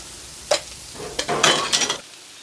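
Ground beef, onions and potatoes sizzle on a hot griddle with a little oil, a steady hiss broken by several sharp scraping clatters from a spatula near the end.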